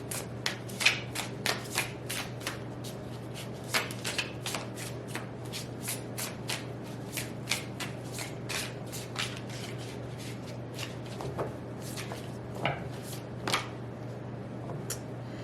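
An oracle card deck, Untold Messages of the Heart, is shuffled by hand for about fifteen seconds, a steady run of crisp riffling slaps and flutters over a faint constant hum, with no talking.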